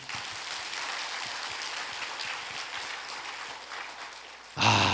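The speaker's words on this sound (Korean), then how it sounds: "우리 하나님께 영광의 박수 한번 돌려보시죠." A church congregation claps in a steady, moderately loud round of applause that carries through most of the stretch, fading slightly before a sudden louder sound cuts in at the very end.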